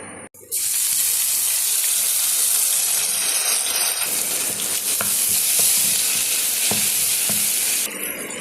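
Steady crackling sizzle of fenugreek seeds frying in hot oil, loud and close, with a few faint clinks of stirring.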